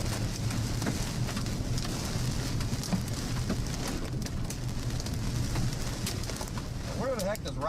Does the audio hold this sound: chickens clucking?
no